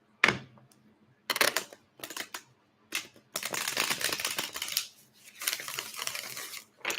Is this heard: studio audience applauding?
no